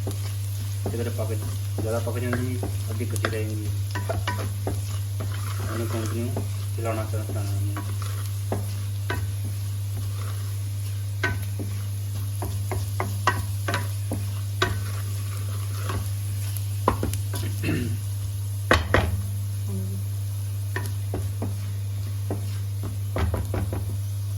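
Lasuni methi frying in a pan, with a steady sizzle under repeated scraping and knocking strokes of a spoon as it is stirred, close by, with a low constant hum and brief bits of talk.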